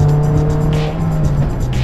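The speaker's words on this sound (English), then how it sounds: "I'm actually driving in my 2003 Honda S2000 today." A 2003 Honda S2000 being driven, its engine humming steadily from inside the cabin with a constant drone and slight rev changes over a brief stretch, no talking.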